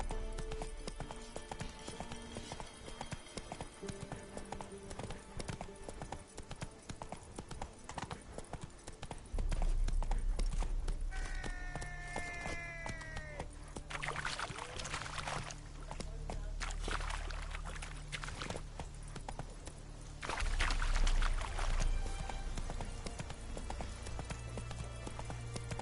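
Rhythmic clip-clop of a horse's hooves trotting in The Witcher 3, steady and close, with a low whinny partway and a brief spoken word.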